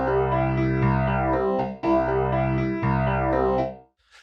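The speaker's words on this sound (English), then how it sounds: "Next up, we have the phaser." A sustained harmonic synth or instrument tone runs through a phaser effect in Cubase, with its sweeping, whooshing notch movement repeating in three phrases before it cuts off, and no voice.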